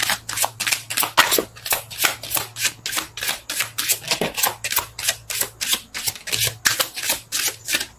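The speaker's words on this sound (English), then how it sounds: "Shuffle." Rapid, rhythmic riffling of tarot cards being shuffled, a steady run of crisp flicks close to the mic with no talking.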